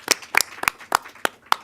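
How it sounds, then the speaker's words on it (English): A small group claps sparsely during a panel discussion, six or so isolated sharp hand claps spaced irregularly over a short stretch, close and moderately loud with no talking. "One round of applause for that."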